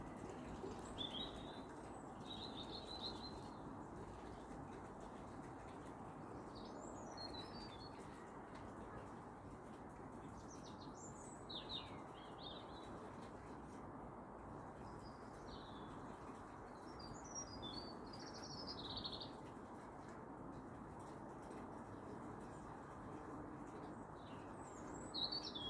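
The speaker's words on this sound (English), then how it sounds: "but I'll just let you listen to the bird calls," Birds calling at night from woods at about 8 pm, scattered high chirps and short song phrases repeating throughout against a soft, steady background hum, faint and somewhat distant.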